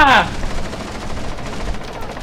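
Gunfire in Rainbow Six: after a brief tonal sound, a continuous, loud, rapid crackle of automatic shots fills the whole moment.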